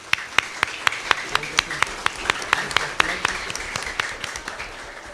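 Audience at a community panel event in Xalatlaco clapping in response to a request for applause, a sparse, steady run of individual sharp hand claps from a modest crowd, fairly close, lasting several seconds.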